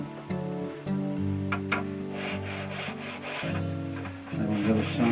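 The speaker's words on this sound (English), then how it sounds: "I'll get some sandpaper and we'll make a start." Steady rubbing strokes of sandpaper across a wooden instrument's kerfing and side braces, a soft rasping texture over a sustained background tone.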